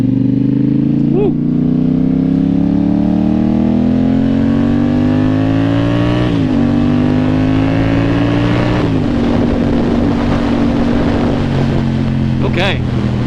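A 2024 Yamaha R7 motorcycle engine hums steadily close by, its pitch rising gradually and then dropping with gear shifts around a quarter and two-thirds of the way through, with wind noise throughout.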